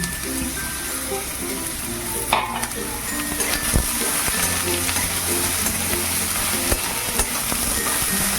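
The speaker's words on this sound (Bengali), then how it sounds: "আলুগুলোকে দু মিনিটের মতন একটু ভেজে নিলাম নিয়ে এবার বেগুনগুলোকে দিয়ে দিচ্ছি" Potatoes and eggplant fry in a pan, giving a continuous close sizzle broken by occasional stirring scrapes and utensil knocks, while background music plays underneath.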